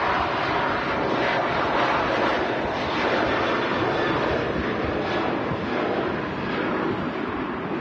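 Airliner taxiing at Manchester Airport: a continuous, broad jet engine roar with a steady rumble and hiss, moderately distant and without talk.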